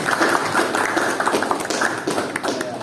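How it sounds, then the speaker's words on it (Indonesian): Classroom applause for a student after a lesson on HTML, CSS and a login function, a small group clapping steadily and fairly close for about three seconds with scattered taps. "tepuk tangan dulu untuk Alia"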